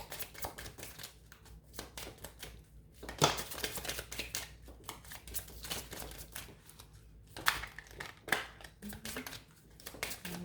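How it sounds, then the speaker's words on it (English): Tarot cards being shuffled by hand during a love reading, a run of soft papery riffles and slides with a few sharper snaps, close and fairly quiet, with no talk over them. "Shuffle one more time."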